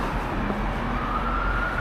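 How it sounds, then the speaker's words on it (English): A police siren wails steadily in the distance over a constant rumble of city street traffic in Hess Village, Hamilton, rising slowly in pitch as it passes. "police drive by with the sirens on"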